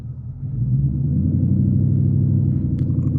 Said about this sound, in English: we're gonna rev it up to around 1200 RPM